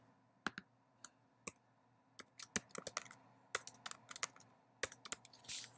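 Keys clack on a computer keyboard in uneven bursts, single taps spaced out at first and then quicker clusters of typing, crisp and close in a quiet room.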